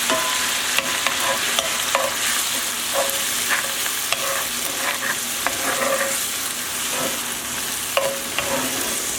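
Sherry wine boils off in a pan with a constant frying hiss, repeatedly broken by light clinks and scrapes of a utensil against the pan, close and without speech.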